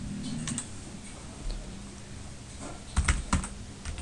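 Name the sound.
typing on a computer keyboard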